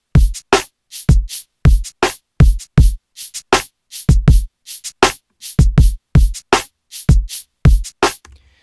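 Snare drum hits run through an Ableton 12.4 delay, sharp cracks repeating in a steady rhythm with quieter echo taps trailing each one, loud and close with no talking.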